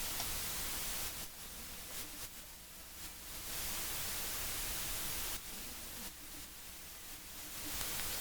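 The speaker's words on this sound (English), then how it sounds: "you can hear the hiss will go up and down where the compression's kicking in" Steady broadband hiss from an analog-emulation plugin that swells and dips in level as compression kicks in, with faint muffled sounds pumping underneath.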